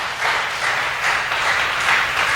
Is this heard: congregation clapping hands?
yes